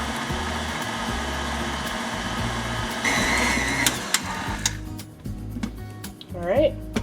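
An electric stand mixer runs at low speed through flour for a baked dessert batter in a home kitchen, a steady motor whir throughout with a brief scraping clatter near the end and someone talking over it.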